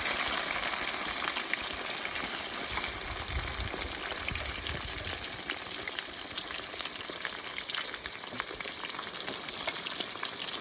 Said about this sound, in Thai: วันนี้เราจะมาทำ ปลาซิวทอดกรอบกันนะครับ